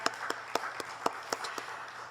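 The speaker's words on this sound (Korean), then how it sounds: "우리 원장님께도 감사의 박수 보내드립니다" Applause from a church congregation at an anniversary worship service, heard as scattered, fairly quiet claps with steady pulses through a soft room murmur.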